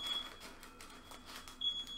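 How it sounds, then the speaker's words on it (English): A smoke alarm in a home kitchen sounds thin, high beeps at the start and again near the end, fairly faint and heard over a low background of household noise. "if that beeping gets on my nerves, I'm sorry"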